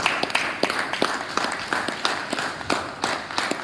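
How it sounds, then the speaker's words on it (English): Audience at an Ook Farms annual symposium breaks into steady clapping, a dense spread of many hands with sharper individual claps standing out, sustained for several seconds without any voices over it. "Please clap."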